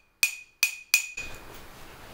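A coffee cup struck three times in quick succession, each hit a bright ringing clink with a sustained tone, near and alone, then a faint background hiss takes over.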